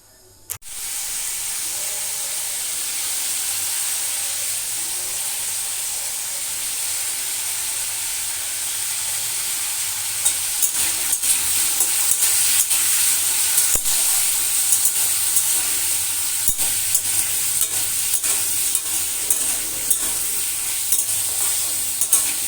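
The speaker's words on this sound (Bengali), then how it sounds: "এখানে আমি রান্না বসিয়ে দিয়েছি, এই যে সোয়াবিনের তরকারি আর ভাত করে ভাজবে" Soybean curry cooking in a pan in a home kitchen gives a steady sizzling, steamy hiss throughout, with occasional scraping clicks of stirring growing more frequent in the second half.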